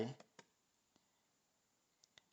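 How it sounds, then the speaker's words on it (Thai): Computer mouse clicks on a Windows desktop, a handful of sharp, faint isolated taps spaced irregularly, the first tangled with a brief burst of noise at the start. "เราต้องคลิกขวาใส่"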